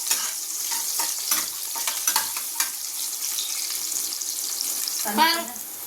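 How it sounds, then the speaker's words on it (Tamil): Food sautéing in a pan for Kerala-style spicy chicken gravy gives a continuous close sizzle with light stirring scrapes, and a brief clatter near the end. "இது நல்லா செவக்க வதங்கணும்."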